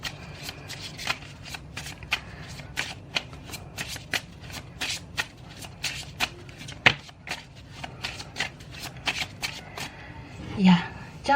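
A deck of playing cards is shuffled repeatedly during a card reading, giving a steady run of crisp riffling bursts close up, with a louder shuffle near the end.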